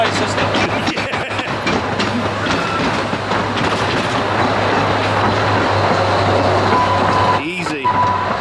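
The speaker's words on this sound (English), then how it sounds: "It's a good ride, the Pleasure Beach Express." The Pleasure Beach Express amusement park train at Blackpool Pleasure Beach runs with a steady rumble and clatter of wheels on track. Voices and park noise sit under it, and a brief sharp burst comes near the end.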